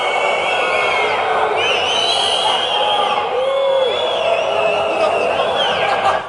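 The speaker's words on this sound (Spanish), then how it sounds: "un abucheo con insultos incluidos, es decir, lo más sonoro que podáis a partir de ahora" A plenary hall audience at an education debate jeers and boos with shouted taunts, a loud continuous crowd roar with whoops and bellowing voices rising over it.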